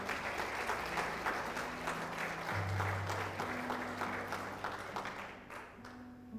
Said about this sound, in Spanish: Denle el aplauso a la palabra del Señor